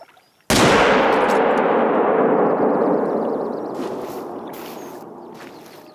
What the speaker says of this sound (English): Pretty sure I only shot at 1 bear.